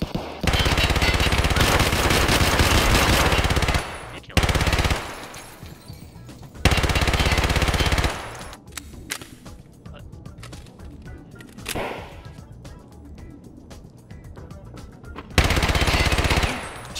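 PPSh submachine gun firing in a video game, long sustained bursts of rapid automatic fire separated by quieter gaps of lighter gameplay sounds, loud and close.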